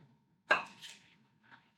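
A knife cuts a slice from a tomato for a BLT: one crisp, close cut with a short slicing rasp, then a faint second touch, with no talking.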